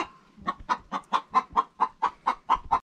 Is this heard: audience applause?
no